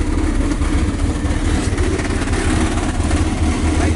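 A classic car's engine idles close by, a loud, steady low rumble that runs unbroken throughout with no one speaking.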